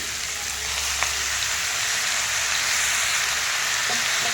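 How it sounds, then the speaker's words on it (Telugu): Onions frying in oil in a pan until soft, a dense, loud, continuous sizzle like steady rain, with a couple of faint stirring taps, nearby and without voices. "నార్మల్గా వేగాలండి. ఉల్లిపాయలు ఏమీ బ్రౌన్గా రావక్కర్లేదు, కొంచెం మెత్తబడితే సరిపోతుంది."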